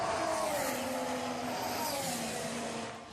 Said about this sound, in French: ils sont remplacés par des moteurs à V6 turbo hybrides